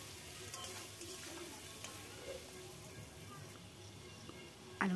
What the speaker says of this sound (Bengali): সামান্য কিছু লবণ, পরিমাণ মতন হলুদ দিয়ে ভেজে নিতে হবে। উল্টে পাল্টে ভালো করে ভেজে নেব।